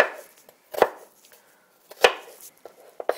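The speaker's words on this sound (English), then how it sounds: "And then just run your knife through it" A knife dices onion on a cutting board for pico de gallo: two sharp, close chops about a second apart, with lighter taps and scrapes of the blade between them.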